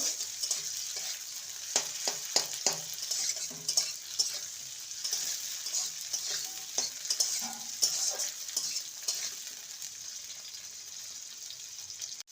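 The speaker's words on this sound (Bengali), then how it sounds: "মিনিট দুয়ে ক্যাপসিকাম টমেটো আর পেঁয়াজকে ভেজে নিয়েছি" Capsicum, tomato and onion fry and get stirred in a pan, a steady soft sizzle with scattered scraping clicks from the utensil throughout, fairly quiet and with no voices.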